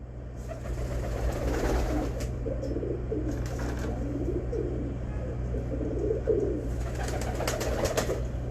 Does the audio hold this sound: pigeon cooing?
yes